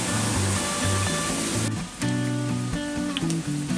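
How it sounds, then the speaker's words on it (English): Steady broadband rush of river water flowing near a covered bridge at a campground resort in Buchanan, Michigan, continuous and fairly loud, with some low tonal sounds and a brief dip partway through. "Nice little covered bridge over the river."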